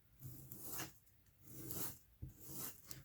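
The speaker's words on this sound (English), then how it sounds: "And I am just rolling it on the sandpaper." Leather edge of a journal cover rolled back and forth on sandpaper, giving three soft, raspy rubbing strokes with gentle swells, close and quiet with no talk.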